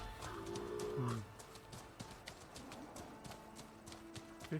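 Hooves clip-clop in a steady, faint rhythm in Horizon Forbidden West as a horse is ridden, under bits of low background game sound.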